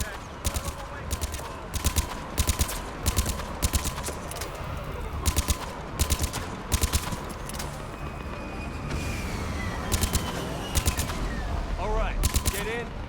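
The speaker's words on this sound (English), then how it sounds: "I'm gonna set down some suppressing fire." Sustained gunfire from the Mass Effect 3 video game, rapid bursts of shots cracking repeatedly over a dense battle din, with a few voices calling out amid the firing.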